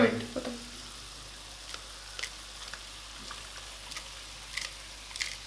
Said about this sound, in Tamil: சரி, இந்த மசாலா இப்போ ஊற்றிடலாம்.